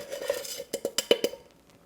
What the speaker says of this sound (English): I'm just going to add 1/3 cup of cocoa powder and whisk that in